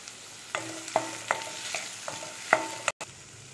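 Green chillies, dried red chillies and curry leaves fry in hot oil for a chow chow chutney, a steady sizzle broken by about five sharp scrapes of a stirring spoon against the pan, close and fairly quiet with no talk.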